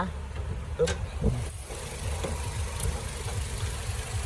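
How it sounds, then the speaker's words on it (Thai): A 2014-2015 Toyota Corolla Altis 1.6G with a Dual VVT-i 1.6-litre engine idles with a low, even rumble and a few faint knocks. "ฟังเสียงฟังเสียงเครื่องนะฮะเครื่องแน่น"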